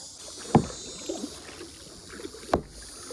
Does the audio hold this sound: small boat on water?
yes